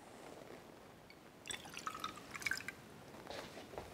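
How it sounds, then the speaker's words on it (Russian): Water is poured into the inner glass vessel of a calorimeter in a physics lab. After quiet, a faint splashing trickle begins partway through and runs for about a second before fading into light drips. "Наливаем сюда воду"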